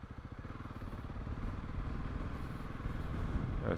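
A Honda CRF 300 Rally motorcycle riding down a rural farm road, its single-cylinder engine giving a rapid, even pulsing thrum that grows slightly louder, with no talking.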